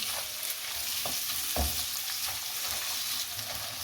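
Two small chopped onions fry in a pan for an egg masala, giving a steady close sizzle with a few soft clicks of stirring and one louder scrape partway through.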